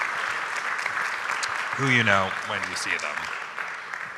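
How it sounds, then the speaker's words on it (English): Steady crowd applause runs throughout, with a voice speaking briefly over the clapping in the middle, at an art exhibition talk. "So please give them a round of applause"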